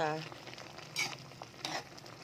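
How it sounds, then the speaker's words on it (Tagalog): Ginataang papaya in coconut milk at a rolling boil in a pot, giving a steady bubbling simmer with a couple of louder splashy bursts, close up and without talk. "Ayan, kulong-kulo."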